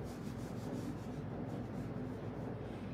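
Steady close rubbing of a finishing product into the carved details of a painted wooden buffet during a boho chic makeover, a continuous soft scrubbing texture with no talk over it.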